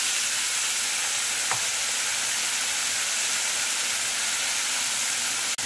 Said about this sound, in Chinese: 这样翻炒了一下